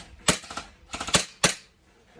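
Three sharp airsoft pistol shots crack out one after another in an indoor setting, the first one close, the last a loud snap, with a few short knocks and rustles in between.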